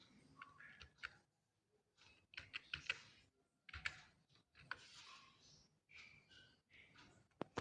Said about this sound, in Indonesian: Tinggal diketik